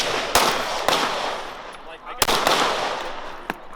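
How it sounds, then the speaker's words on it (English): Rifle shots at an outdoor shooting range, including a .308, crack out loud and close: several sharp reports spaced irregularly over a few seconds, with ringing decay between them. "Okay, so I'm shooting real low."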